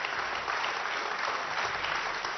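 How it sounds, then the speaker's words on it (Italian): Warm applause from a television studio audience on an Italian talk show, a steady, dense wash of clapping filling the whole stretch with no voices over it. "Guardi che applauso caloroso."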